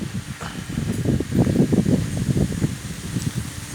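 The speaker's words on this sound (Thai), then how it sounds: "นี่ลมก็ค่อนข้างแรงนะครับ" Gusty wind tossing and rustling leaves, a rough, fluttering roar that swells and eases, close to the microphone with no talking.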